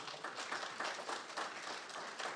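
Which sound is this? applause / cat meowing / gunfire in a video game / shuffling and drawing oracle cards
applause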